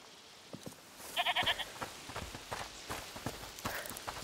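A goat bleats in a short burst of a few wavering calls in the video game A Plague Tale Requiem, heard at moderate distance over soft footsteps and quiet ambient noise, with no one talking.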